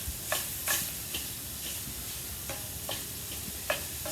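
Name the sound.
sausage sizzling on the grill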